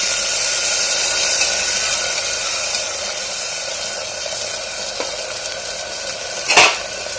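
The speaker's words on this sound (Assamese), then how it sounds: "এয়া দি দিছো পানী" Water poured into a hot pressure cooker while making a chickpea and potato pitika dish, giving a steady broadband sizzle and hiss throughout, with a brief sharper burst of spitting near the end; no talking.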